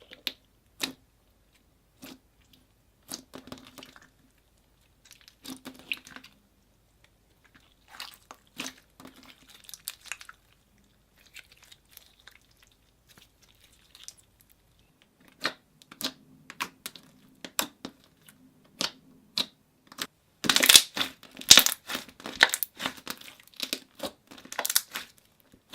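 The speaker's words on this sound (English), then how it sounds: "You had to soak the chalk to make it kind of like okay to cut" Soaked chalk being cut for ASMR, giving soft crumbly crunches and wet scraping taps in irregular bursts, close and sparse at first, then denser and louder toward the end, with no talking.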